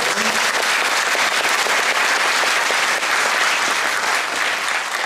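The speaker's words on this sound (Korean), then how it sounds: "박노 군수님께 박수 한번 강하게 쳐주세요." A large audience at a Korean agricultural policy forum and talk concert with local government heads bursts into loud, sustained clapping for a county head, a dense, even roar from start to finish.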